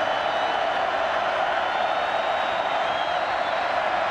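College football stadium crowd at a Virginia Cavaliers vs NC State Wolfpack game, a steady dense roar that holds loud and broad without breaks.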